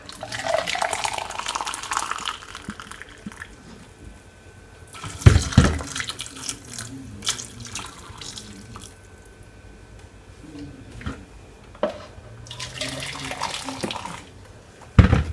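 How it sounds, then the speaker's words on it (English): Water splashes and gurgles in bursts into a cooking pot over a steady background, with a few sharp clanks and a louder pour near the middle. "I'm just gonna pour some water in my pot"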